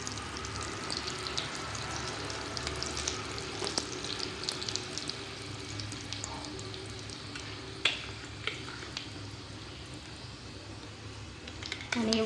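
Curry leaves drop into hot oil already holding cumin and mustard seeds, giving a steady, fairly quiet sizzle and crackle with a few sharper pops and occasional stirring clinks.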